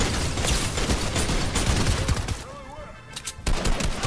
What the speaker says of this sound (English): those hand cannons are loud